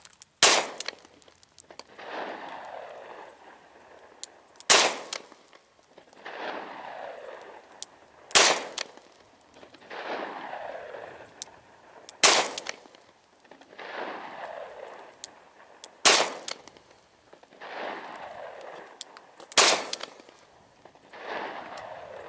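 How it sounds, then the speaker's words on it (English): A Smith and Wesson 351C revolver fires CCI Maximag 40 grain rounds from 3 yards, six sharp, loud shots spaced about four seconds apart, each followed by a ringing echo, with no talking. "Velocity test, CCI Maximag 40 grain out of the 351C from 3 yards."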